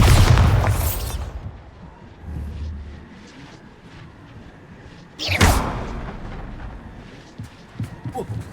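Bombarda explosion spell cast in the video game Hogwarts Legacy, two loud booming blasts, one at the start and one midway, each followed by a rumbling tail over a dull background.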